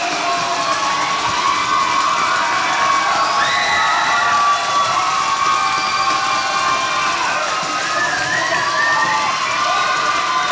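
A large audience cheers and claps continuously at a live event, a dense roar of shouts and applause that stays loud throughout with no pauses.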